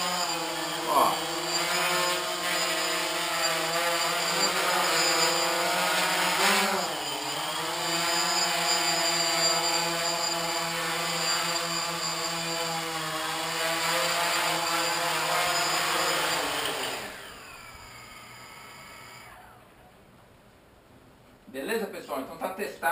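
A DJI Phantom drone with calibrated compass and updated software lifts off, its motors whining in a steady high buzz with layered harmonic tones that rise briefly, hold for a long stretch, then cut away to a quieter tail.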